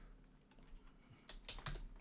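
Soft computer keyboard typing while writing GDScript code in Godot, a few scattered light keystrokes followed by a quicker cluster of clicks, close and quiet with no talk.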